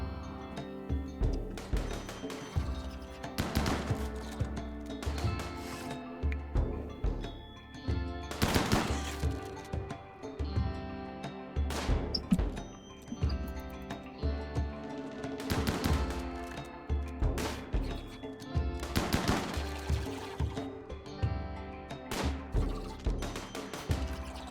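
Bursts of machine-gun and rifle fire in the colony game RimWorld as settlers attack bugs, loud repeated volleys with short gaps and some heavy thuds mixed in.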